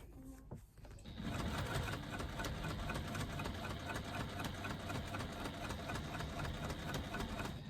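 A sewing machine stitches fabric with cream thread. After a short quiet lead-in, it runs at a steady, fast, even mechanical whir, close and continuous to the end.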